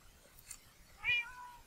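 Cats meowing in the video game Minecraft, with a couple of faint, short meows, the clearest one a brief mid-pitched cry near the end, over a quiet background.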